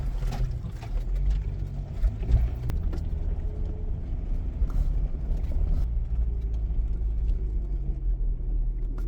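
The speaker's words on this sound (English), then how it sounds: "That engine revved up way higher than what I wanted it to" An off-road vehicle engine on the Red Cone Trail in Colorado, a steady close rumbling drone that rises and holds at high revs for several seconds with no talk over it.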